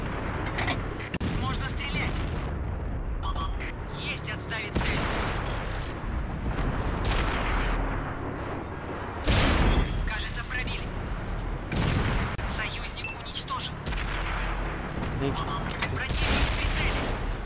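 Video game gunfire crackles in repeated bursts and booms, loud and close, while players talk over it throughout.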